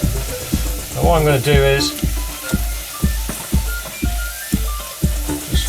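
Chips sizzle steadily in a pan of hot fat, with regular scraping or stirring knocks keeping them moving, while a person talks over the frying.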